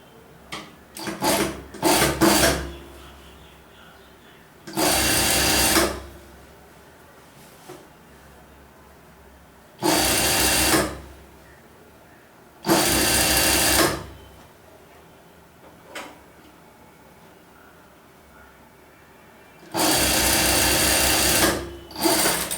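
A domestic sewing machine stitches the bottom bands on a pair of shorts in four loud bursts of steady whirring, each lasting a second or two, with quiet pauses between them and a few short clicks at the start.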